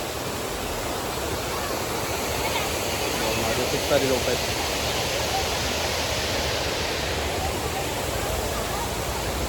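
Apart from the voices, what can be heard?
loud water pouring over Khadkhad Dam water curtain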